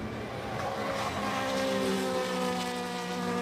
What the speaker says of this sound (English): Sound beautiful, don't they, these cars, as they head through the old head